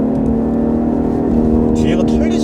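A BMW 540i xDrive pulls hard in second gear, its engine a loud, steady drone close by, with someone talking over it.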